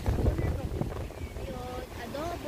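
Strong wind gusting outdoors at a picnic in Doha, with loud, rough buffeting and rumbling close to the microphone, and some faint voices or tones partly masked.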